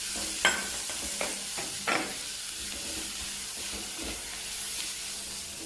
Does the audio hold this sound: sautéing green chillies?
yes